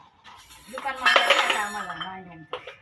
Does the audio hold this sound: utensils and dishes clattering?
yes